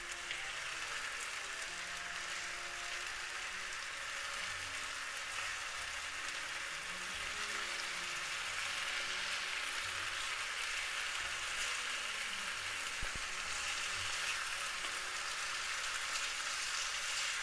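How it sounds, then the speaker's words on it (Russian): Beef and onion sizzle steadily in a pan for goulash, a constant close, hissing fry with faint crackles and one brief knock partway through. "теперь я перемешаю мясо, чтобы оно обжарилось с другой стороны"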